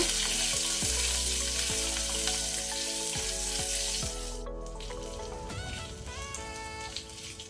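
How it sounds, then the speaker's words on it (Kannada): Chopped ginger and fenugreek seeds fry in a pan for a mango curd curry, giving a loud, close, continuous sizzle with a hum underneath that drops after a few seconds into softer crackling and spoon scrapes. "1/4 ಟೀ ಸ್ಪೂನ್ ಮೇಥಿ ಸೀಡ್ಸ್, ಮೆಂತೆ ಕಾಳು. ಇದನ್ನೀಗ ಸ್ವಲ್ಪ ಫ್ರೈ ಮಾಡ್ಕೊಳ್ಳೋಣ"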